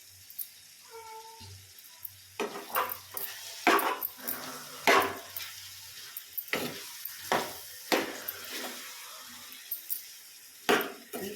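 Ridge gourd curry stirred in a pan, with irregular scraping and clinking strokes against the vessel, a soft sizzle underneath, and a cat meowing briefly near the start.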